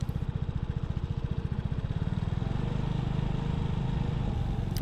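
A 2024 Vespa Primavera S 150 scooter engine putters steadily at walking pace in a parking lot, a close, even, low-pitched pulsing drone that stays continuous throughout.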